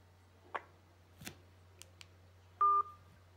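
Telephone keypad dialing tones sound during a call to a customs service hotline, with one clear steady tone near the end after several faint clicks and taps, all quiet and close.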